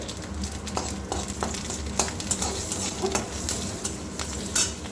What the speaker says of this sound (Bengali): ওই তেলের মধ্যে দিয়ে দেবো একটা কাঁচা লঙ্কা আর একটু কালো জিরে ফোড়নে